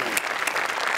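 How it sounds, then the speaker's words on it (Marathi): Sustained applause from a comedy show audience, a dense steady clatter of many hands clapping close and loud throughout. "श्यामेसाठी एकदा टाळ्या वाजवल्या पाहिजे."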